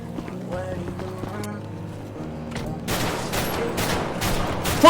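Gunfire in the DanishRP roleplay video game: a rapid burst of shots breaks out midway after tonal game sounds and keeps going to the end, with a loud hit at the close and voices talking over it.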